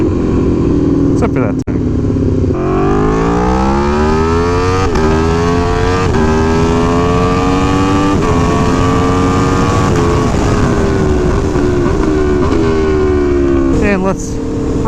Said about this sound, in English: When you use the blipper with the clutch, it makes big pops.